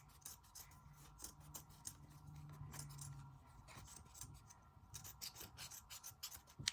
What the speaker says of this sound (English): I can trim all of this extra felt off of the sides